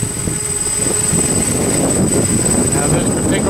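A small quadcopter drone with position hold flies steadily while banking right, its continuous buzzing rotor whine holding loud and close for the full few seconds.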